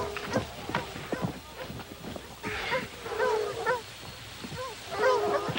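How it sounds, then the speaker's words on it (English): Several dogs bark and yip close by in a scene from The Littlest Hobo, with short whimpers mixed in and uneven bursts over background noise. "Call those dogs off."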